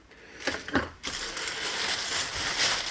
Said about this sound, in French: Je m'excuse le bruit du sac